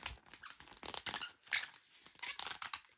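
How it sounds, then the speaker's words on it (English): Tall fashion dolls creak and squeak at their plastic joints as they are moved, a close series of short, scratchy squeals in quick irregular bursts. "these dolls are extremely creaky"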